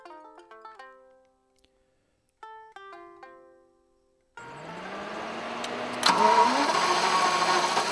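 A 1991 Jaguar XJS convertible's V12 engine cranks after a few warning chimes, then catches and settles into a steady idle, rising briefly in a rev near the end.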